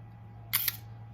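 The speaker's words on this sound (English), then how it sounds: "bring your fingers, locate the shutter button" Shutter of a Polaroid 100B camera fitted with an Instax Wide back fires once, a short double click over a low steady hum in a quiet room.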